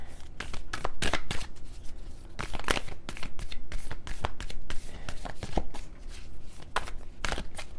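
Close, steady shuffling of a tarot card deck, cards riffling and sliding against each other in dense, continuous bursts with no talk over them.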